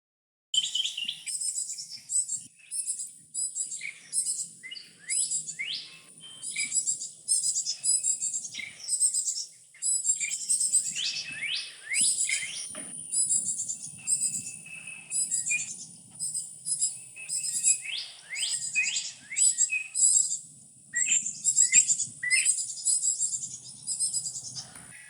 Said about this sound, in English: I'll leave you with a few seconds of Carolina chickadee baby chittering